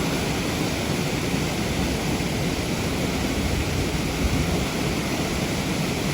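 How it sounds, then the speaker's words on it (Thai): Heavy, steady rain pouring down with a deep low rumble underneath, a constant broadband roar with no talking. "เราจะรอดไหมฝนมาเลย ฝนดำพิษมาแล้ว"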